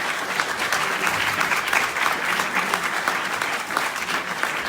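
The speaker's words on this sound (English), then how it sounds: "So a big warm applause to Stefano." A crowd at a Speck&Tech open-source tech meetup claps to welcome a speaker named Stefano, a dense, even wash of applause from many people held at strong volume for several seconds.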